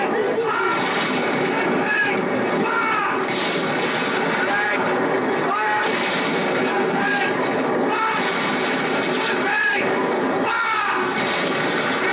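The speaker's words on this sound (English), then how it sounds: "Street firing." Rapid bursts of gunfire ring out in a street, with repeated loud cracks spread across the whole stretch amid a dense, noisy background.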